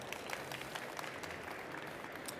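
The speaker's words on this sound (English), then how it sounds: "I want Ivan to have a little clap as well," A small audience at a marketing presentation gives a faint, thin round of clapping for a demo driver, soft and scattered, heard from some distance.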